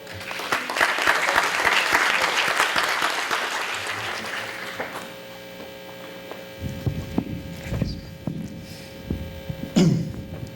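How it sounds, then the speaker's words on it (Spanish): Audience applause at a Spanish-language branding talk welcomes a presenter, a dense wash of clapping that swells, then thins out and fades into a steady electrical hum with scattered shuffles and thumps. "lo recibimos con un aplauso, por favor"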